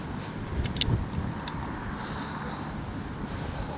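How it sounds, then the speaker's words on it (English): Wind buffets a camera microphone at the sea during a flounder fishing match, a steady low rumbling roar with a few brief gusty bumps early on, close and continuous with no talk. "Wind's pulling my camera around."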